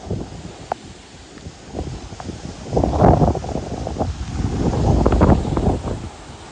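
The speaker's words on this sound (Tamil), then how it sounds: "அப்போ அதால் வந்து நேர அப்படியே காற்று பிடிக்குது" Strong cyclone wind blows in off the sea across open ground with few large buildings in Sri Lanka, roaring and buffeting the microphone in loud, rising gusts.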